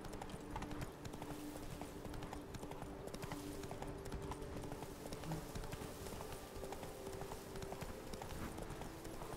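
Roach, a horse in The Witcher 3, clip-clopping along at a steady walking rhythm, hooves close and continuous over game ambience and a faint music bed.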